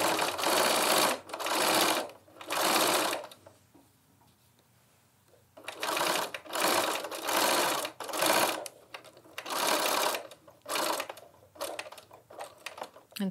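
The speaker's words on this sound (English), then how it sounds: "And so I'm going to backstitch here." A sewing machine stitches the strap of a lined tote bag in short whirring bursts separated by pauses, with a longer quiet stretch near the start and quick start-stop runs close to the microphone.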